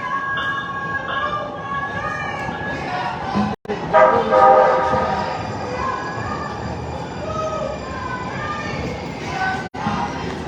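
A passing train sounds a loud, sustained horn with several tones over a rumbling rail background, the blasts rising and falling while the train goes by.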